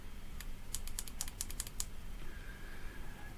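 Fire button on an Aspire Feedlink Revvo vape kit pressed rapidly several times, crisp close clicks in a quick burst, followed by a faint electronic tone.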